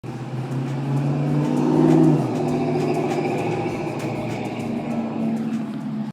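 Cars and trucks stream past on a busy highway north of Gilroy, California, a continuous close roar of engines and tires that swells as one vehicle passes near, then settles into steady traffic noise.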